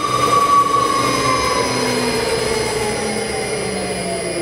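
A StarPower 10 kW generator under test at 1,088 RPM gives a loud, steady mechanical whine and hum with tonal overtones that drift slightly, running alone with no talking.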